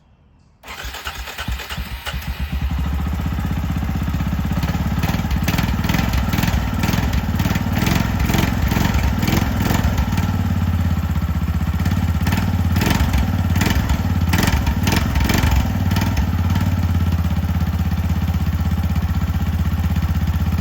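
The small engine of an abandoned 2005 Arctic Cat 400 automatic ATV with an electric choke cranks and catches after a second or two, then settles into a steady, buzzy idle that runs on continuously and fairly close.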